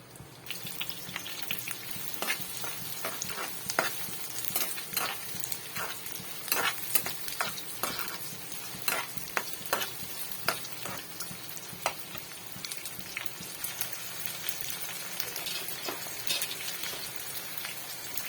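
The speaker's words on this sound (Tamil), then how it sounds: "கட் பண்ணி வச்ச வெங்காயத்தை சேர்த்துக்கலாம்" Chopped onions fry in a pan for knol khol chutney, giving a steady close sizzle with frequent sharp crackles and pops and scraping stirs throughout, with no voices.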